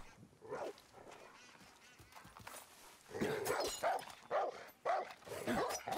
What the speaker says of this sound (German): Es war ein böser Hund. Der hätte mich gebissen.